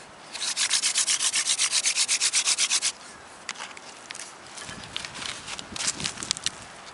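A wooden hand-drill spindle is spun against a hearth board for friction firemaking, giving a fast, even run of about fifteen rhythmic rubbing strokes up close, then quieter, irregular scraping.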